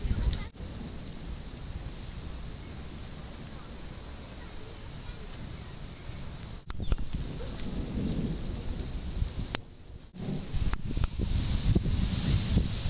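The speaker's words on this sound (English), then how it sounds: "Thunder, like, doesn't stop." A thunderstorm with steady rain hisses on surfaces throughout, with low rumbles and a few sharp cracks, heavier toward the end, plus wind buffeting the microphone.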